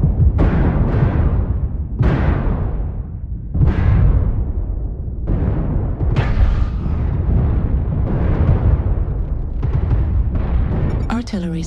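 Repeated artillery strike explosions from the MechWarrior Online mech game, heavy booming blasts landing about every second or two in a loud sustained barrage, with a sharp electronic sweep at the end.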